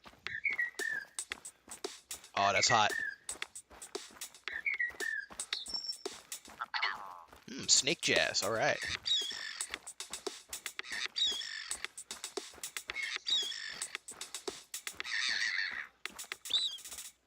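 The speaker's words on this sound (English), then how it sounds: "We recorded the call of some birds and made this." Recorded bird calls, caws and whistles chopped into a short rhythmic song, repeating choppy chirps and cries across the whole stretch, with brief speech over it.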